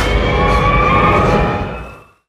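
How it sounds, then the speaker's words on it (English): A plane in the Dunkirk film bombing scene produces a loud, sustained, siren-like engine whine with steady pitched tones, holding strong before fading away over the final half second. "The slowly rising sound of the plane getting closer and closer helps to build the tension before the bombs drop."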